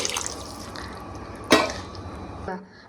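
Water poured into a pot of pav bhaji vegetables, a short splashing pour with a brief louder gush near the middle over steady background noise.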